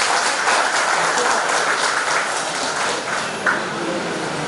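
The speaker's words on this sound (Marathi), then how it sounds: "सौ शहाणे मॅडम यांच्यासाठी टाळ्या झाल्या पाहिजे" At a school reunion, a crowd gives the headmistress a long round of applause, a steady wash of clapping that fades slightly toward the end.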